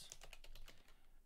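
Rapid keystrokes on a computer keyboard, about seven evenly spaced clicks in quick succession, close and clear with no talking.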